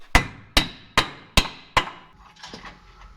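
Five sharp, evenly spaced hammer blows ring out close by as a part is hammered into place on a Toyota FJ45, followed by a few lighter, softer taps as the striking trails off.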